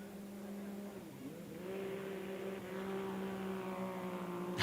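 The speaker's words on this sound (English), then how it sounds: "So we're starting to see the first buggies now coming to the finish line." Rally raid buggies approaching the finish line on a stage in Portugal, their engines droning from a distance and rising and falling as they close in, with a loud burst at the very end.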